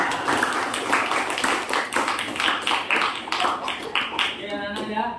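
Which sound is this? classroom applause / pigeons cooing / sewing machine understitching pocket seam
classroom applause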